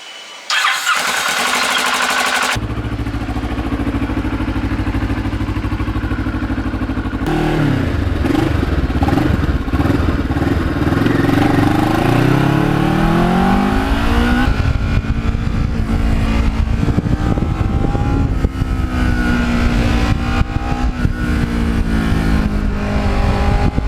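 A Ninja motorcycle engine cranks and fires up, settles into a loud, close idle, then revs in rising sweeps before holding a steady, throaty run.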